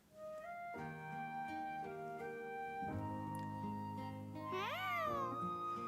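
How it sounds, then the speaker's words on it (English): A cat cries from a park in a video game, a close, clear series of drawn-out meows that rise into a wavering, higher caterwaul near the end, heard alone. "You hear a cat's cry from the park, take a look."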